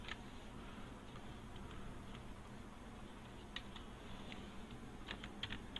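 Soft, quick keystrokes patter on a computer keyboard as code is typed, faint and irregular over a steady background hum.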